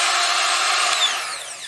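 A Proxxon or Dremel rotary tool spinning at high speed, around 20,000 rpm, giving a steady, fairly quiet whine close by, alone without talk.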